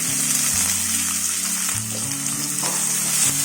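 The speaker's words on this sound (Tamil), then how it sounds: "இப்போ நம்ம ஒரு 2 வெங்காயம் நான் பொடியாக கட் பண்ணி வச்சுருக்கேன், அதை போட்டுக்கலாம்" Chopped onions fry in a pan for paneer pasta, a close, steady sizzle and crackle with occasional stirring scrapes, accompanied by a low background hum.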